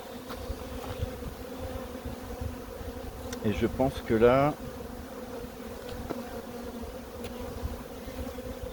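Honeybees and drones buzz steadily around a hive that has recently swarmed, a constant low hum with a louder close pass of a single insect in the middle, while someone speaks quietly.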